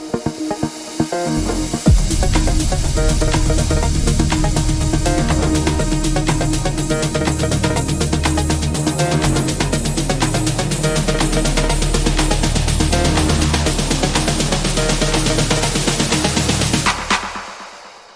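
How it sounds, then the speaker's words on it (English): A crash cymbal struck forward, rather than reversed, rings out over a dense melodic techno build, its bright wash sustaining loudly across the mix before everything cuts off abruptly. "we can always reverse the reverse crash and get a real crash"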